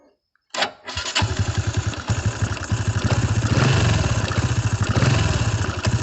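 A Honda Dream 110i motorcycle engine starts after a brief silence and a short crank, then settles into a steady, loud, rhythmic idle with a chugging pulse close by, with no talk.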